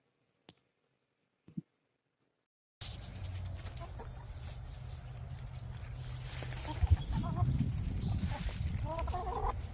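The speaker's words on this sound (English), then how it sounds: "let me tell y'all about Orp, another one of our lavender Orpingtons." Lavender Orpington chickens cluck softly in a backyard flock after a couple of faint clicks and near silence, and a steady murmur of clucks and rustling then carries through to the end.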